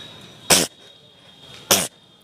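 A man mimics a goat sneezing with two short, sharp bursts spaced about a second apart, close and alone over a faint steady hum.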